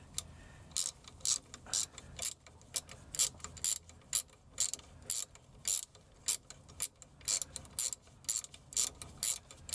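A hand ratchet tightens bolts on a cracked front axle of a crashed Chevrolet Silverado truck. Rapid close ratcheting bursts repeat in a steady back-and-forth rhythm, loud and mechanical, with no speech.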